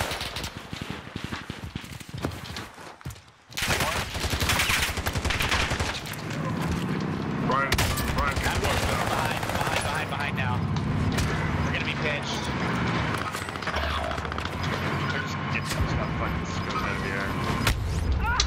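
Gunfire in the Warzone video game: rapid bursts of shots crackle continuously over dense game noise, loud and sustained, while players talk throughout.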